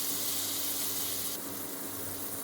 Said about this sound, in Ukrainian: Не смажимо, звичайно, підтушковуємо легенько цибульку і морковочку.